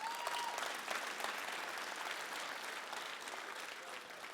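Sustained audience applause at a Mosaic Fresh Voices talk, steady dense clapping that fills the room at a fairly low, even level before slowly tapering.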